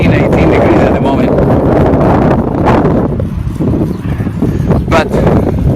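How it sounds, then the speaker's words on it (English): Strong coastal wind in Sardinia buffeting the microphone, a loud continuous roar with gusty swells over several seconds, with a voice speaking underneath at times. "The wind, as you may hear, is pretty strong."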